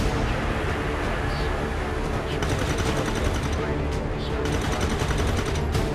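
Gunfire in the video game XCOM 2, rapid rattling shots and bursts over a dense battle din, with a voice speaking over it.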